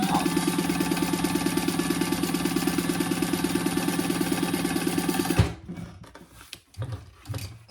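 A domestic sewing machine stitches down fabric on a slim duffle bag with a rapid, even mechanical chatter for about five seconds. It then stops abruptly, and a few quiet handling bumps and rustles follow.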